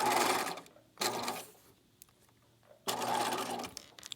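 A sewing machine runs close by, stitching paper embellishments in short stitches, heard as two mechanical whirring bursts around a quiet gap with faint clicks.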